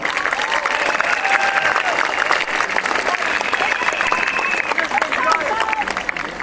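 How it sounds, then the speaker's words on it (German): A large demonstration crowd in Cologne, around fifteen thousand people, many of them young, claps and cheers in a sustained, dense roar, with a voice faintly audible beneath the noise. "Ja, nochmal einen Applaus für euch selber, beklatscht euch mal."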